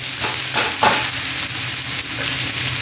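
A red rice and toor dal dosa sizzles on a hot pan with a continuous, close frying hiss and small crackling bursts, with no voices.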